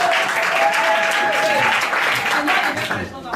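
Wedding guests at a town hall ceremony applaud and cheer: steady, dense clapping from a nearby crowd that runs the whole time, with voices and whoops mixed in.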